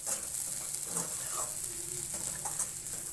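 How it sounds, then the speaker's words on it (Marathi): Corn kernel usal (curry) with lemon juice is stirred in a pan, giving a continuous soft sizzle with gentle scraping stirs throughout. "व्यवस्थित मिक्स करून घ्या।"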